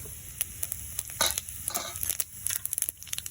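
Cumin seeds land in hot oil left over from frying potatoes and crackle, with faint popping and a soft sizzle under light scraping, close but quiet.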